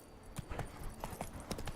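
Horse hooves clip-clop steadily in Witcher 3, a mid-level run of evenly spaced hoofbeats with a faint voice underneath.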